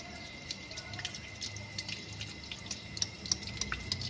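Water gushes steadily from a hydraulic ram pump by a stream, a continuous close rushing flow with small irregular drips and splashes and no talk.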